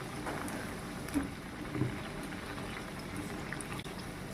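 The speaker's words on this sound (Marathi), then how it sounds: "वड्यांचा ना कलर चेंज होतोवर आणि वडे क्रिस्पी होतोवर तळून घ्यायचे।" Rava medu vada deep-frying in hot oil over a medium gas flame, with a continuous, even sizzle and bubbling that stays steady throughout and has a couple of slightly louder pops.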